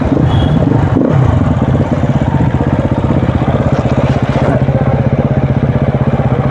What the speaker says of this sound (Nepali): त्यो बाइकको क्या पछाडिको rim lack lack lack lack lack lack हल्लिरहेको छ